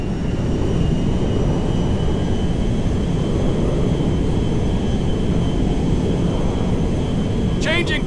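A Merryweather jet in Grand Theft Auto V drones with a steady, loud engine roar that stays constant and dense throughout, with a brief chirping sound near the end.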